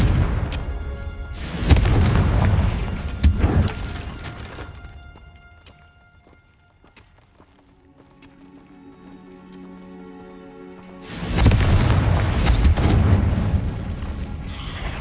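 Confringo blasting spell explosions in Hogwarts Legacy, loud booming bursts near the start and again at the end, with a quieter stretch of dripping, ringing ambience between them.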